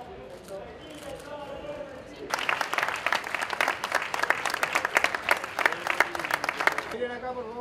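Audience applause at the podium of a ham carving championship, a steady wash of clapping from a crowd that begins abruptly midway, with someone speaking before it and over it.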